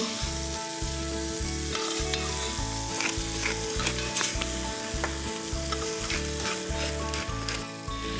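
Beef frying in a pan coated with onions, spices and chilli, a loud continuous sizzle with steady stirring scrapes, close up and uninterrupted by voices, with a faint musical hum underneath.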